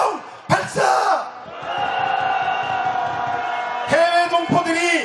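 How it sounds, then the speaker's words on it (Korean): A large crowd at an outdoor protest march roars a victory shout in a long, loud, sustained wave, with a voice calling out on the microphone at the start and again near the end. "승리의 함성 발사"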